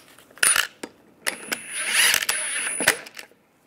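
Wheel bolts are fitted onto a 1998-2010 Volkswagen Beetle hub, making a scattered series of close, sharp metallic clinks and rattles with short pauses between them.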